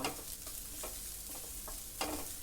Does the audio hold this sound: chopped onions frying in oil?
yes